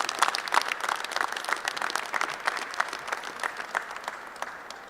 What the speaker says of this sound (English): Please, a big round of applause for Representative Ryan McKenzie.